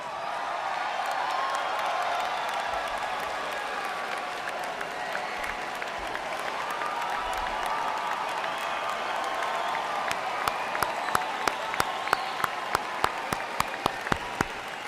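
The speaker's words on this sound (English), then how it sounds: "a round of applause for our graduates of the class of 2013" Large indoor crowd at a university business school commencement ceremony gives sustained, dense applause for the graduates, steady and loud throughout, with a few sharper individual claps standing out near the end.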